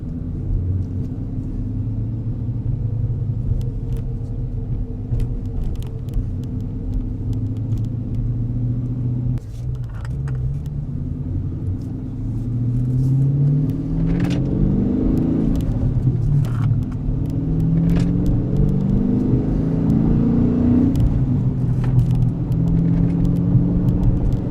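A manual-transmission car accelerating after the clutch is eased out in a low gear around 1500 RPM, its engine rumble rising in pitch and growing louder with a steady, close-up drone and no talking.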